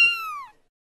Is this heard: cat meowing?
yes